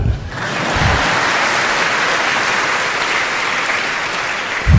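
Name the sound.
audience applause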